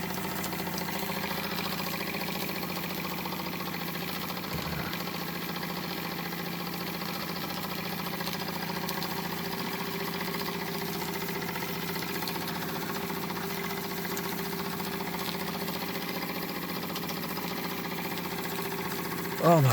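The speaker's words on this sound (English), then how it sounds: "a steam engine's always best when it's just ticking." A Wilesco D24 model steam engine runs gently at low throttle with a steady, continuous mechanical ticking hum, close and even throughout, ending in a brief louder burst.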